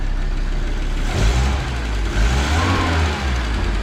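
An Audi Coupe engine, first started in over a year and misfiring less, runs steadily at a low rumble, with a slight rise in revs partway through, close by and without talk.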